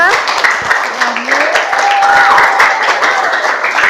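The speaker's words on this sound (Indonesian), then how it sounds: "Kita berikan tepuk tangan dulu untuk temannya." Students in a classroom clap together for a classmate, a lively, steady burst of many hands, with children's voices and chatter mixed in throughout.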